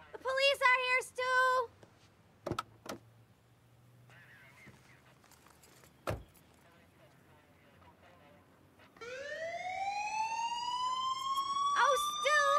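A newly installed home security system alarm blares in a house, a rising electronic wail starting partway through and holding loud and steady to the end, after earlier bursts of shouting voices and a few sharp knocks.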